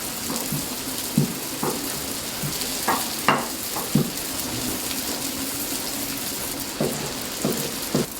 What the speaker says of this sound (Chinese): 炸至底面金黄，给它翻一个面。